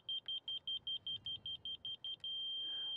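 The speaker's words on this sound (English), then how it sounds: "It's beeping slow because I'm low." A laser level receiver on a grade rod gives a slow, even series of short high beeps, about a dozen in a row, then switches to one continuous flat tone, clear and close in a quiet outdoor setting.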